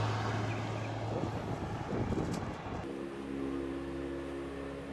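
A 63-foot three-masted sharpie schooner motors under engine power in light winds, a low steady engine drone with wind rush, the tone shifting partway through to a steadier hum.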